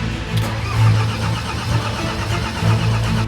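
A diesel engine on a motorcycle cranks over rapidly while failing to start, a fast, rhythmic churning pulse with slight surges, close and fairly loud, and nobody speaks.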